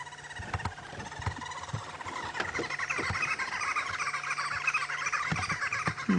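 Green wood hoopoes call from outdoor bush on a live safari drive, giving a raucous run of repeated squawking chatter that builds into a continuous cackling chorus, moderately near, with no voices.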